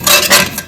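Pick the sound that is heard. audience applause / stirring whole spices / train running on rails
stirring whole spices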